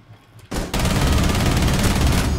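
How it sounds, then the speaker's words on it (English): Gunfire in a tactical shooter video game erupts after a brief quiet, one sharp shot, then a loud sustained burst of rapid automatic fire that carries on to the end. "Gunshot."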